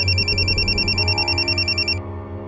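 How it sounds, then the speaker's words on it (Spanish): A telephone rings as a radio drama sound effect, a bright warbling electronic trill held for about two seconds before cutting off, over a low steady hum. "un repentino timbre resonó en el aire, rompiendo el silencio de la noche"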